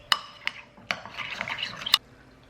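A spoon works through chipotle mayonnaise in a small bowl, with several sharp taps against the bowl followed by a short scraping, rubbing swirl, close up and with no talking.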